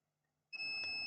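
A multimeter set to diode mode beeps in a sharp, steady continuous tone as its probes touch a coil on a laptop motherboard, starting abruptly after near silence and staying loud to the end.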